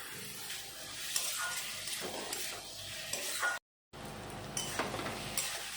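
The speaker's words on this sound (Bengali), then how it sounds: "এখন দিয়ে দেব টমেটো কুচি আর কাঁচা লঙ্কা কুচি।" Chopped tomato and green chilli sizzle and fry in spiced oil, a steady hiss with scraping stirs of a spoon in the pan, broken by a brief silent gap, no talk.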